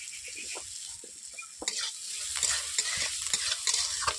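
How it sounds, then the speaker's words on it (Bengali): Onions frying with a little salt in a pan make a continuous close sizzle for an eggplant dish, with soft spatula stirring and scraping that grows a bit louder partway through, and no speech. "অল্প করে নুন দিয়ে দিচ্ছি পেঁয়াজের সাথে মতো পেঁয়াজগুলো গলে যাওয়ার জন্য"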